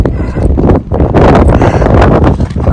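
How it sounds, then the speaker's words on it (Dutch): Wind gusts across a hiking trail, buffeting the microphone with a loud, continuous low roar and rustle and no one speaking. "Oh, lekker die wind."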